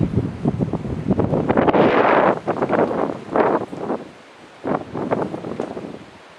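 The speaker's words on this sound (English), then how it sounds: "I just want you guys to hear the wind" Hurricane Matthew winds buffet the microphone in loud, rough gusts that swell and drop away in surges, with a rushing roar between blasts and no voices.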